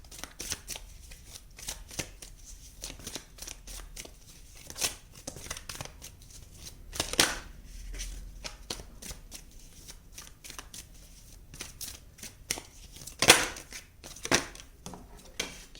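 Tarot cards being shuffled by hand, a continuous soft riffling and flicking close up with occasional louder snaps, carrying on for about sixteen seconds with no talk.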